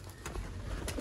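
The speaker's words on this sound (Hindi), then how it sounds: "ये कबूतर सियालकोटी कबूतर है" Sialkoti pigeon, a breeding male, cooing softly up close in a loft setting, a couple of low murmured coos over a steady background hum.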